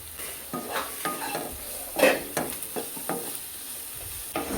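A spoon scrapes and clacks against a pan as Kashmiri chili powder is stirred into Kerala-style mango rice. It makes a series of close, uneven scraping strokes with one louder clatter in the middle over a faint sizzle, with no talking.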